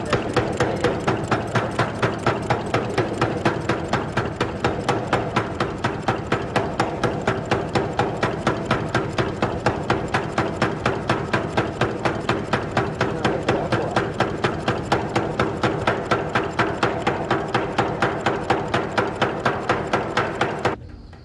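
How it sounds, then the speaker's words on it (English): A blacksmith in a railway workshop forges crown rivets for steam locomotive parts, with loud, rapid, evenly spaced hammer strikes on hot metal continuing without pause for about twenty seconds. "Old skills are being relearned to make new parts for the locomotives. Today, they're forging crown rivets."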